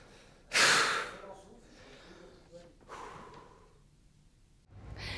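A single deep, loud breath drawn in sharply near the start, followed by softer breathing and a second exhale, close to the mic with no speech.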